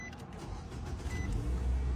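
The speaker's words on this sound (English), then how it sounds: "Nissans have a terrible start sound." A Nissan car engine cranking and catching, rising into a low rumble over about two seconds, heard from inside the vehicle.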